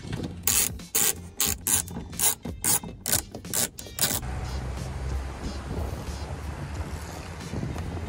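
Rapid, close ratchet clicking in quick bursts as a Torx bit backs out headliner screws in a BMW, giving way to a steady rubbing, rushing noise.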